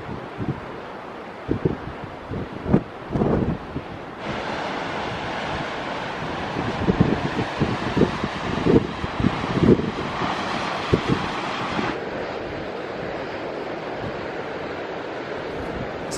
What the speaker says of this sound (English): It's a big wave today as well.